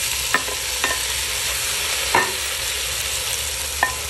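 Tomatoes go into a frying pan of sizzling onion and garlic, a steady frying hiss running throughout with a few sharp scraping stirs of the spatula against the pan.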